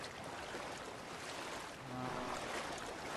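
A character in The Forest survival game runs fast through water, giving a steady splashing, sloshing wash that swells slightly toward the end, with no talk over it.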